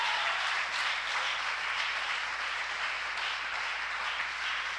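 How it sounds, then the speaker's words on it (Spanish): A church congregation applauds steadily at a moderate distance, a soft, even wash of clapping with no talking over it. "Un aplauso a nuestro Señor en esta tarde"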